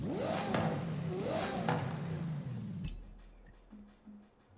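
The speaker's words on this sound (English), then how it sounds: "Is that the same engine noise that they ended up using for the for the Lexus LFA?" A Ferrari engine in the racing game Forza Horizon 5 revs up and down twice in rising and falling sweeps, then cuts off abruptly to a faint idle and quiet clicks.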